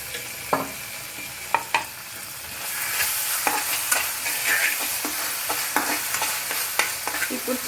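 Chicken leg pieces fry in a spiced sauce of soy sauce, vinegar and tomato sauce, a steady sizzle broken by sharp stirring scrapes and clinks of a spoon against the pan.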